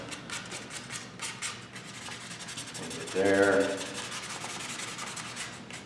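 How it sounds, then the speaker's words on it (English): Steady hand sanding on a wooden guitar body, a continuous rough rubbing that runs throughout, with a brief spoken phrase partway through. "a little more here, my favorite place to sand."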